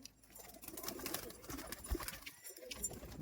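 Two pigeons coo in low, faint rumbling phrases amid background noise and soft rustling, with a short gap of quiet near the end and no voices.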